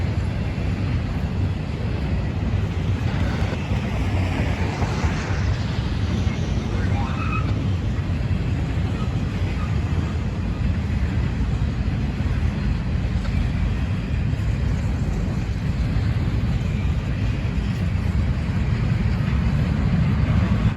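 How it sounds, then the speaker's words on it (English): A Norfolk Southern intermodal freight train, long and carrying flatcars with single- and double-stacked containers, rolls past as a steady, continuous low rumble and roar that holds at the same level from start to finish. "high-priority NS intermodal train 21Z, which comes out of Croxton, New Jersey, and terminates in Chicago, Illinois' 63rd Street Yard"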